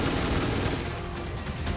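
Rapid overlapping gunfire from a State of Decay 2 match on lethal difficulty, a dense sustained burst of shots fading slightly toward the end.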